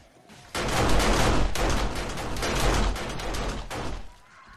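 Automatic defensive turrets in 7 Days to Die blast away in a loud, continuous barrage, rapid shots blurring into a steady roar with a few brief dips before tapering off near the end.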